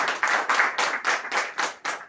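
A company event audience claps together in a steady rhythmic beat to honour the firm's founder, with loud, even clapping and no talk over it.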